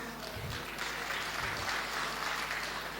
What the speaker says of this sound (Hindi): तो हम उनका स्वागत करते हैं तालियों कड़कड़ाहट के साथ।